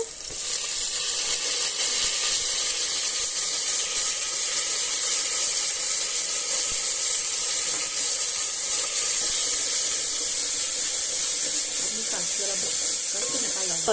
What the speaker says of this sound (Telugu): కొంచెం వేగిన తర్వాత పుదీనా వేస్తున్నారు.